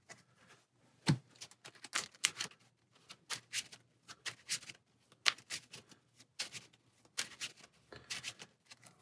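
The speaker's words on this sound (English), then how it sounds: "get in a counter card and shuffle" Marvel Champions cards being shuffled in quick repeated riffles and bursts of snapping, close and fairly quiet, with no talking.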